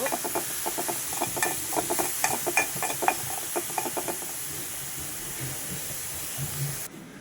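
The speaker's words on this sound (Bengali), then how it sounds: "এই কড়াইটাতেই আমি চিংড়ি মাছের শুটকিগুলোকে ভেজে নেব" Dried shrimp fry in a wok: steady sizzling hiss with a run of quick crackles and pops during the first few seconds, then an even frying hiss that cuts off at the end.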